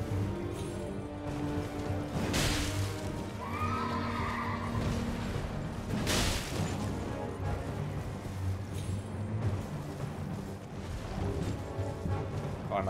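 A horse whinnies twice during horseback combat in Elden Ring, with clanking combat noise and a steady low rumble running underneath.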